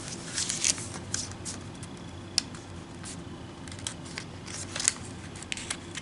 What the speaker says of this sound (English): We're gonna squash fold these flaps. So, open, and squash it like this.